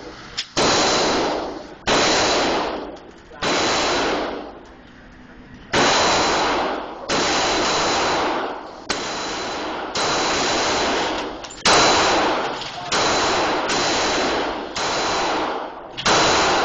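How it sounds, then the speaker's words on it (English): Shots from a Smith & Wesson .40 caliber pistol crack out loud and sharp, about a dozen spaced irregularly one to two seconds apart, each followed by a short ringing decay. "This is Adam's 40 cal, Smith & Wesson."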